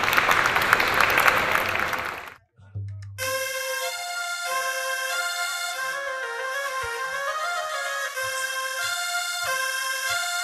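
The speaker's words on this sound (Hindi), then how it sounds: "तो एक बार जोरदार तालियां आप लोगों के लिए" Audience applause at a live music show, a dense burst of clapping for about two seconds that cuts off before instruments and a sustained melodic tune take over.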